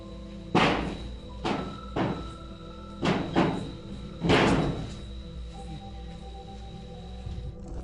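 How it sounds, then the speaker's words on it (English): A door bangs shut again and again in an abandoned haunted house in a long-deserted village, four or five sharp wooden thuds at uneven intervals, fairly close, over a faint steady hum with no voices. "Something closes the door"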